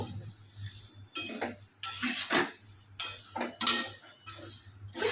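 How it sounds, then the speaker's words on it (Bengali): A utensil stirs and scrapes oil-free dry-fried flattened rice (chira) in a pan, giving quiet, irregular scraping strokes with light metallic clinks. "এটা দিয়ে এবার সব ভালোভাবে নাড়িয়ে নেব"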